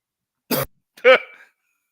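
Two short, rough coughs from a person getting over a cold, separated by a brief pause, close and fairly loud with silence around them.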